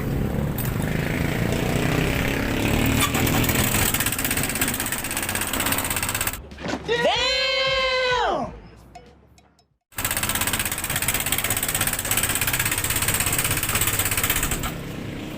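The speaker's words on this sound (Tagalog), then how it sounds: "parinig ko muna sa inyo yung ano yung naging problema sa Honda Click" A Honda Click 125 scooter with an abnormally noisy engine runs with a loud, harsh, steady rattling clatter. A short sweeping tonal sound briefly breaks in before the same noisy running resumes.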